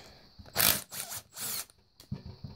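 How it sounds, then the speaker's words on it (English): A rough, worn bearing in a 1998 Polaris Scrambler transmission is spun by hand, making several close, gritty whirring bursts of about half a second each, separated by short pauses, with a faint steady hum behind them. "When I spun this, the bearing actually sounds pretty rough."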